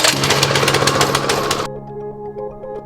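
Gas pressure washer engine after a pull-start, running with a loud rapid chattering roar for about a second and a half, then cutting off abruptly to a quieter ringing hum.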